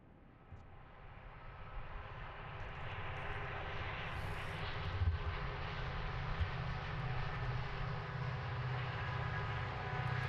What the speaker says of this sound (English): the train will make a left-hand turn at the only CTC-controlled switch